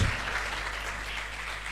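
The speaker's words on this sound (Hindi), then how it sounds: "जोरदार तालियां" Steady, dense applause from a church worship congregation, a continuous wash of clapping at moderate distance with no pauses.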